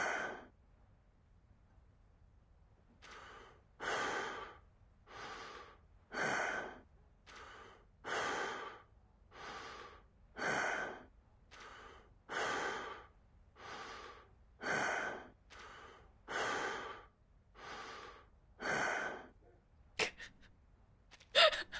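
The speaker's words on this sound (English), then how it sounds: "We have slime sounds, heavy breathing." Heavy breathing in the Reverse: 1999 video game, a slow steady series of about fifteen loud, close inhales and exhales at regular intervals, with no voices.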